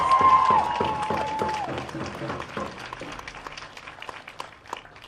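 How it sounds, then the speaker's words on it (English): A crowd at a Black Lives Matter rally in Kelowna applauds with dense clapping and a few cheers, loudest at first and slowly thinning out. "let's just give ourselves a round of applause, okay?"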